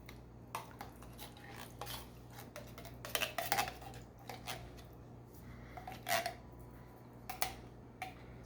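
Spoon scraping thick pumpkin puree out of a 15-ounce can, several short metallic scrapes and clinks in irregular bursts, close and fairly quiet.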